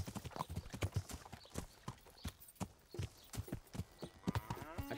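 Horse hooves clop through mud in the medieval video game Kingdom Come Deliverance, a steady rhythmic series of close, soft thuds with squelchy texture, each step distinct against a quiet background.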